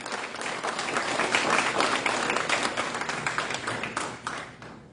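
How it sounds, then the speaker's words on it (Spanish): Church congregation claps in a big applause, a loud, dense burst of many hands that swells and then tapers off, with no talk over it. "Denle un aplauso grande al Señor."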